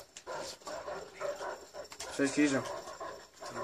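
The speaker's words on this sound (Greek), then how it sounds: "Α, είναι και τα σκυλιά τώρα, ωραία." Dogs bark and yelp in a video game, short sharp barks scattered across the moment while a player talks over them.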